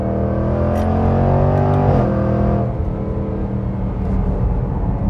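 A 2020 BMW X3 M or Jaguar F-PACE SVR performance SUV engine drones loudly and steadily, echoing off nearby rocks, its pitch climbing, then dropping off before settling into a rough, rumbling idle.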